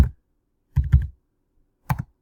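Three short bursts of keystrokes on a computer keyboard while entering a time, close and clear, with silent gaps between the bursts and no talking.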